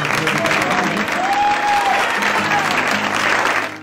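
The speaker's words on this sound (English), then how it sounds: "thank, with a huge round of applause, Kathleen Frazier" Steady applause from the audience at a charity brunch for human trafficking awareness, a dense even wash of clapping that holds for nearly four seconds before tapering off, with a brief tonal whistle or voice rising through it.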